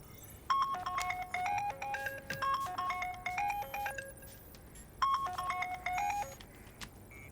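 A melodic phone ringtone plays a bright electronic tune, looping through its phrase, then pausing briefly before starting again.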